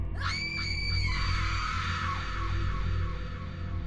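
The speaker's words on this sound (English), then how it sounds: "Out of nowhere came a scream." A single shrill human scream rings out sharply, then trails off over a low rumbling background.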